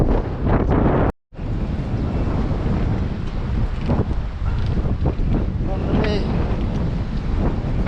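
Strong wind blasts across the microphone at sea on a fishing trip, a loud, continuous roar with gusty surges and a brief dropout near the start.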